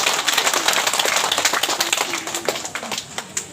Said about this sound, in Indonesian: Kita sambut mereka dengan tepuk tangan yang meriah.